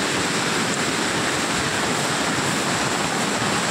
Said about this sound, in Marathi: तुफान पाऊस